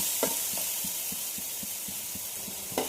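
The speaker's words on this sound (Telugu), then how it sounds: "ఇందులోనే పసుపు వేసేసి బాగా కలిపేసుకున్నాను." Tomatoes cooked with salt and turmeric are stirred in a hot pan, a steady sizzle running under a regular series of soft scraping strokes, close and alone.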